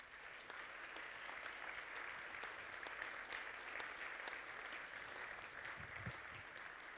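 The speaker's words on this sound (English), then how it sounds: "A little bit of applause." Applause from an audience at a live electronic music event, a steady dense patter of clapping filling the whole stretch at moderate distance, without pause or voices on top.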